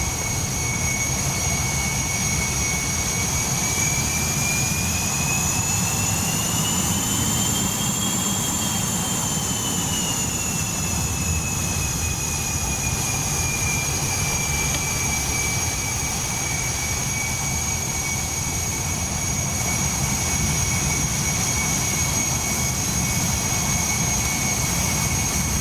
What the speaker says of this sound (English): That's a good engine start.